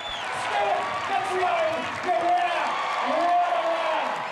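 A large crowd cheers and claps at a running race in Burnie, a steady roar that carries throughout while a voice speaks over it.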